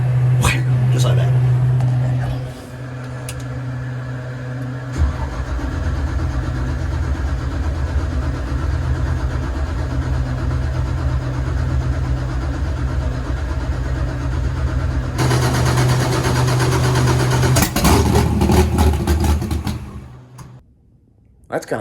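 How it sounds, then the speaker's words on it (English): A raceboat engine turns over after a short burst at the start, then runs as a loud, steady drone with a strong low hum, rising and roughening toward the end before cutting out abruptly. People talk over it throughout. "Why did it take the engine so long to fire up?"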